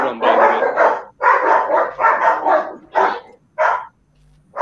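Several hounds bark in rapid clustered volleys, loud and near, tapering to a few single barks and then a brief quiet gap.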